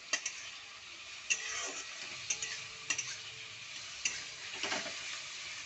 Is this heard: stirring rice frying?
yes